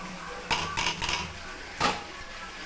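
Spatula stirring sautéing onions in a metal cooking pan, with a few sharp scraping clatters against a low steady stove hiss.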